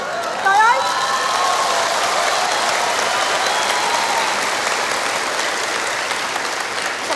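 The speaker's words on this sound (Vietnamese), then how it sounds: "Bà con làm gì vỗ tay vậy?" Warm applause from a live audience at a Vietnamese stage comedy sketch, steady and fairly loud throughout, with a brief voice over the start.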